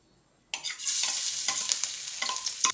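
Garlic sizzles and crackles loudly in a pan, with repeated stirring scrapes, while Filipino tuna adobo in coconut milk is being started. The sizzle begins abruptly and continues steadily up close, with no talking.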